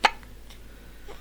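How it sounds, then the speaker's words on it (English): A single small, sharp hiccup from a one-month-old newborn at the start, then near silence with faint breathing. "You got the hiccups?"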